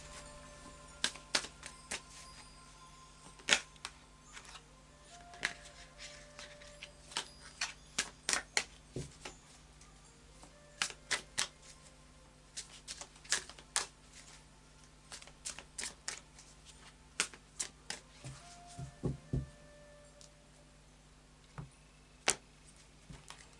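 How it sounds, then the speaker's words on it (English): Tarot cards being shuffled in repeated crisp riffles and snaps, close up, with quiet pauses between bursts and no talking. "then we'll do a final shuffle of the after tarot."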